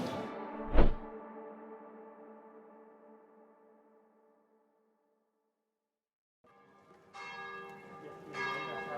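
A deep church bell in Venice strikes once and its long resonant hum slowly fades to silence, then bells ring again, layered and sustained.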